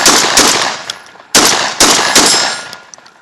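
A Beretta 1301 tactical shotgun firing Winchester Universal shells: loud, close gunshots in two quick pairs, each sharp blast followed by a ringing tail and the clank of the action.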